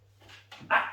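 A pet dog at home lets out a couple of short barks and yips, close and fairly loud, the last bark the strongest, over a faint steady hum.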